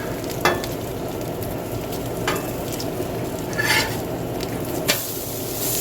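Bacon sizzles on a flat-top Blackstone griddle, a steady broadband frying hiss with occasional louder pops and scrapes of a spatula against the hot steel, close and continuous without voices.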